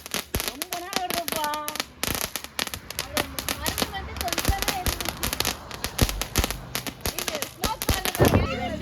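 Rapid bursts of Diwali firecrackers pop and crackle in quick irregular volleys, loud and close, with people's voices and exclamations mixed in.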